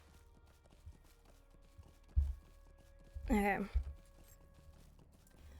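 Horse hooves clip-clopping in the online game LOTRO, a few quiet soft steps, a sharp whinny-like burst, and someone speaking briefly over the top.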